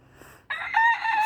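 A rooster lets out a loud, close crow, a strained rising call that starts abruptly and holds for under a second.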